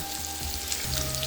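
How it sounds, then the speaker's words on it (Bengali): Boiled potatoes deep-frying in hot oil, a steady close sizzle and bubbling with no speech, holding evenly for about a second. "একটু ডিপ ফ্রাই করে নিচ্ছি"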